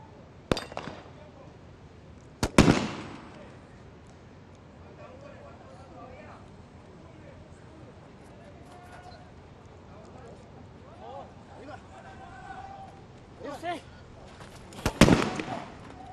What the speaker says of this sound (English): That's only the second shot of the Colombian team sniper, and that's a miss as well, by a larger margin this time.